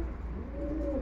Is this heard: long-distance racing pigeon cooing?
yes